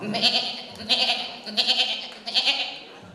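A voice imitates a lamb's bleat, giving four short wavering cries in a row, fairly close and moderately loud.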